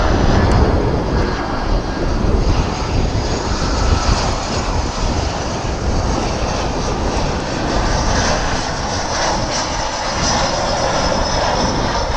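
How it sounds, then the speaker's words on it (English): American Airlines Flight 1374 from Mexico City roars in on arrival at DFW Airport, a loud, broad jet engine rush that holds steady for the whole stretch, with no voices. "Next, for your viewing pleasure, is American Airlines Flight 1374. This is coming in from Mexico City."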